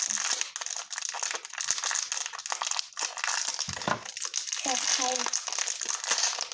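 Plastic collectible packets crinkle steadily as they are handled up close, with someone talking over the rustling.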